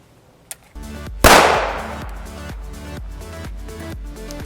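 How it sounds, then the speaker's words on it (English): A single sharp gunshot from a 5.7x28mm pistol firing Hornady 40gr VMAX rounds, loud and close, with a long decaying echo behind it and a steady background hum before and after. "we're going to do a shot out of the pistol, the PDW, and the 16-inch"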